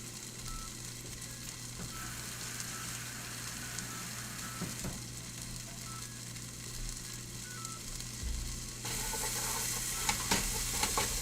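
Onions stirred and sizzling in a pan while soup is being made, a steady broadband fry hiss with scraping stir strokes throughout, growing a bit louder and brighter near the end, no voices.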